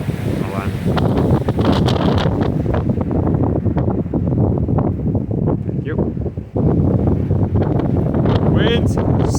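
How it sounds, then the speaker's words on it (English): Warm wind buffets a microphone at a beach campsite, a loud continuous low rumble with gusty surges throughout, briefly dropping before swelling again. "Wind, stop it. It's a warm wind, so I'm not really complaining."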